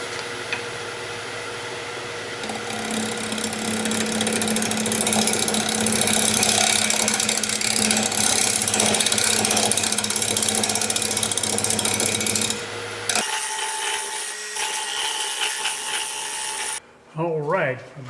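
A wood lathe spins a dehydrated persimmon bowl blank, giving a loud steady whirring hum with a buzzing mechanical tone that then drops abruptly to a quieter hum before cutting off near the end.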